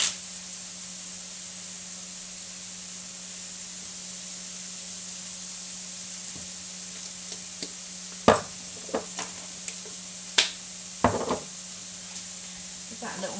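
Chilies, oregano and vegetables sizzle steadily in a frying pan for a frittata while a utensil stirs gently, giving a few soft scrapes and clinks against the pan over the constant hiss.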